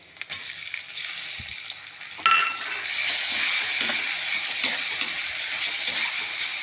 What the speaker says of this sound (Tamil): இவ்வளோ பெரிய பெரிய சைஸு தக்காளியை பொடியாக கட் பண்ணியிருக்கேன் அதையும் இதில் விட்டுடுவோம்